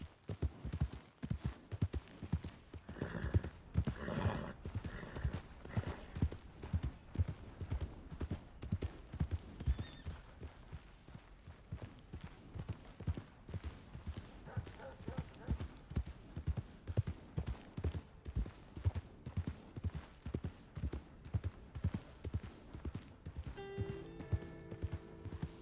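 Horse hooves clip-clop steadily in Red Dead Redemption II, a close, rhythmic trotting that runs for the whole stretch with only brief easing, plus an occasional faint whinny-like tone.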